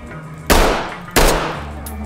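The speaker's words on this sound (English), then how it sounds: "Two bullets is all it took from the motherfucking USP." Two sharp, loud USP pistol shots ring out in a video game, spaced about two-thirds of a second apart, each trailing a short decaying echo.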